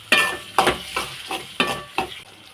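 Small shallots sautéing in a pan for a pond carp fish curry, a soft sizzle punctuated by five or six sharp, rhythmic spatula scrapes and knocks against the pan, close and distinct.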